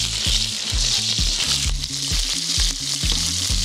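Chicken frying in a paella pan over an open fire, a loud, steady sizzle and crackle heard close up with no talk.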